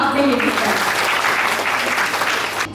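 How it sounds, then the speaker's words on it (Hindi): An audience at a school life-skills event in a hall breaks into loud, dense applause, sustained clapping from a large crowd that carries on for the whole stretch with voices mixed in. "एक जोरदार तालियां आप सभी अपने लिए दीजिए"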